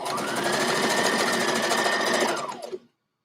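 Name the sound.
sewing machine stitching fabric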